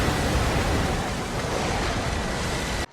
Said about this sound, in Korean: 생각보다 파도는 거칠었으며 심각한 상황인 걸 알게 됩니다.